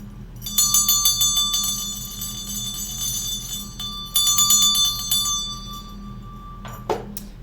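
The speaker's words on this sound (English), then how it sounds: "Bells are also magical, right?" Small bells rung in a spiritual clearing ceremony after smudging: two bursts of bright, rapid metallic ringing with sustained tones that decay, then a single louder clink near the end, with no talking.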